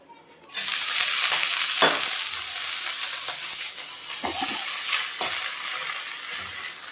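Pumpkin leaves drop into hot oil with fried green chillies and garlic, a sudden loud sizzle that settles into steady frying, with several scraping stirs of the spoon, close and without talk.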